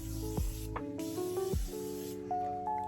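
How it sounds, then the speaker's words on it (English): Makeup setting spray misted onto a face: a few short hissing spray bursts, close and fairly loud, with no talking. "spray it down, let it,"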